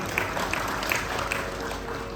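An audience claps along at a Hindu religious discourse on the Sudama story, a dense steady patter of many hands with a few sharper claps standing out, moderately loud and close.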